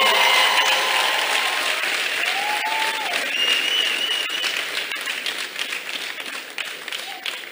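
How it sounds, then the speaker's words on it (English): A church congregation claps for God in warm, sustained applause, with scattered shouts and high ululating cries rising above the steady clapping. "Let's clap for God on their behalf."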